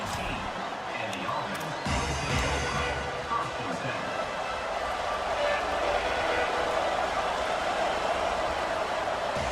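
Stadium crowd in a college football video game at Iowa, a dense, steady roar of many voices filling the whole stretch, loud and continuous with faint commentary mixed under it.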